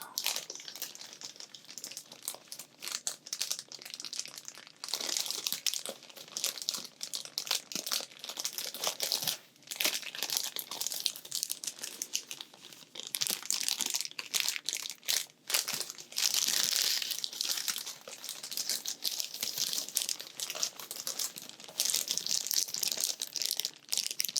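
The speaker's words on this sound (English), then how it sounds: "Another good thing you can use to acquire the stimulated mammalian response is crinkly sounds." Something is crinkled and crushed close to the microphone as an ASMR trigger, producing a continuous stream of dense, crisp crackles that swell in bursts with a few brief pauses.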